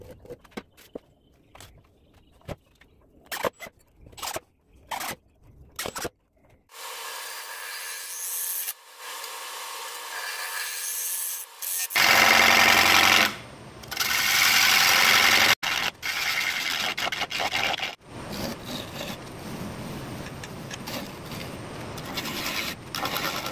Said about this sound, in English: let me get this cut up and put on the lathe.